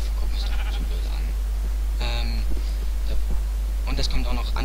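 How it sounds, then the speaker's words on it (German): Sheep bleating in the Minecraft video game, a few wavering bleats spaced over several seconds, heard under a constant low hum and someone talking. "ja, blöde Schaf, guck mich doch so blöd an."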